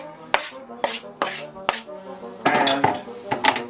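Garlic going into a pan of hot extra virgin olive oil, heard as a series of sharp clattering metal-on-pan knocks and scrapes at close range, with a light sizzle underneath and no talking.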